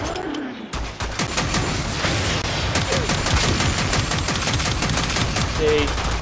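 Akbolto Prime gunfire in the Warframe video game, a dense, loud stream of rapid shots running continuously with other game effects layered in.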